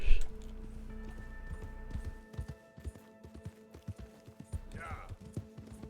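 Horse hooves in Red Dead Redemption 2 from a big horse, a steady clip-clop of footfalls at a moderate pace, close and fairly soft.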